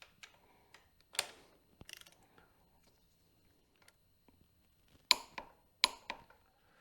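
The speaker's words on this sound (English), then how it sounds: "on this side, I'm actually going to tighten the nut up to 50 foot-pounds" A wrench tightens the axle nut on a motorcycle front fork during a suspension rebuild, giving sparse, quiet metallic clicks and ratcheting ticks in short clusters near the start and end, separated by near silence.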